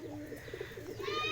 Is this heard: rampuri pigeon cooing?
yes